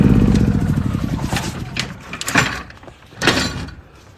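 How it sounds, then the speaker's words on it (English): A generator at a nighttime roadside mobile tire service chugs with a low rumbling drone that winds down and fades, followed by a few clunks and footsteps, close and loud. "Shutting off the generator."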